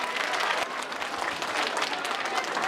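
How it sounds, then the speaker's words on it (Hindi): A school annual day audience breaks into loud, enthusiastic applause for a performance, a thick, continuous crowd clapping close to the listener with a faint murmur underneath. "एक बार कृपया जोरदार तालियों से पुनः स्वागत करें"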